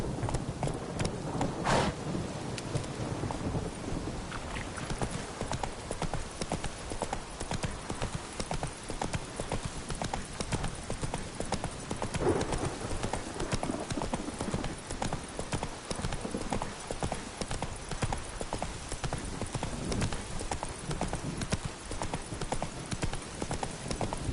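The horse Roach gallops in The Witcher 3 game, a fast continuous drumming of hooves on ground that stays loud and steady throughout, with a brief whinny near the start.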